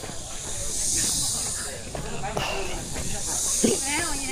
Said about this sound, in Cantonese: 聽住啲蟬叫聲